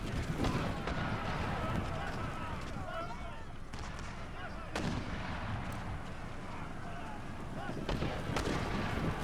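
Mortar team firing in an Empire Total War battle (Darthmod), a steady din of distant thuds and crackling musket-like shots over a noisy battlefield, with a few sharper reports standing out.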